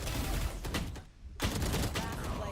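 Valorant esports replay of a headshot, with rapid gunfire bursts, loud and close, broken by a brief near-silent gap before the shots resume.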